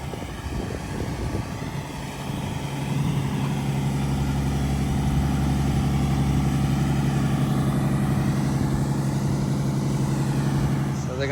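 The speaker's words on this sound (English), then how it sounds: "Pump truck is here, waiting on the concrete truck." A concrete pump truck's engine idling at a construction site, a loud steady low diesel rumble that holds throughout while the truck waits for the concrete truck.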